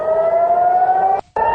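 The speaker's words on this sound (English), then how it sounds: "air raid sirens are sounding across Israel's second largest city of Tel Aviv" An air raid siren wails across Tel Aviv, Israel, a loud, steady tone that slowly rises in pitch, drops out briefly, then sounds again with no voices over it.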